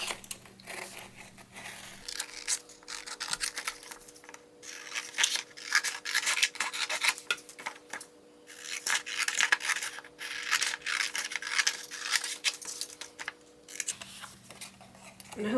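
Scissors or a blade cutting out a paper wand box for a Harry Potter party, with a steady run of close scraping and snipping under a constant background hum, with no talking.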